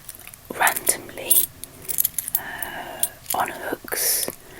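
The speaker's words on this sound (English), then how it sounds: "And there's pots and pots of keys." Old keys jangle and clink in short bursts close to the microphone, heard between soft whispered speech in a quiet room.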